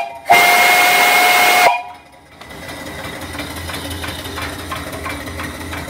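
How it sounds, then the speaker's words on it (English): A loud, shrill steam whistle on a return flue boiler at about 55 pounds of pressure blasts for over a second, then cuts off, leaving a quieter steam engine chugging and hissing steadily afterward. "Here's the whistle."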